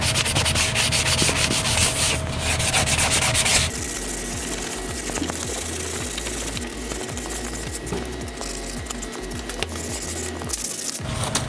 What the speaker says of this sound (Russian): Для удобства используем такой шлифовальный блок градации 220